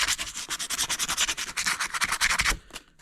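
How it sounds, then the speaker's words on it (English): Sandpaper rubs back and forth quickly on the contacts of a 6.0L Powerstroke starter, a close, rhythmic scratchy scrubbing of steady strokes that eases off at the end. "I've already taken my sandpaper"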